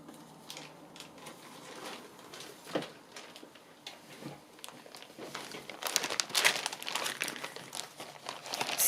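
Scrapbook paper being handled and crinkled at close range while making a music journal, with irregular rustles and crackles that grow busier and louder toward the end.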